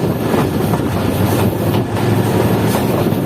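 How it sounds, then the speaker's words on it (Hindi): A privatized Mohen Jo Daro passenger train rumbles loudly and continuously as it approaches a station, with dense rail noise and wind buffeting heard from on board. "ट्रेन हमारी अप्रोच कर रही है"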